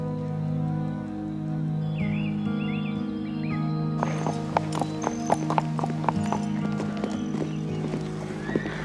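Steady clip-clopping of horse hooves with a brief whinny early on, the hoofbeats continuing over a constant low background hum.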